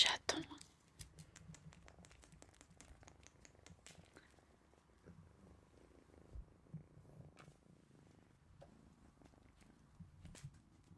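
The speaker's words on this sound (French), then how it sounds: "C'est un petit chaton sibérien" A young Siberian kitten purrs softly and close, a faint continuous low rumble with scattered small rustles and taps, and a whispering voice comes in now and then.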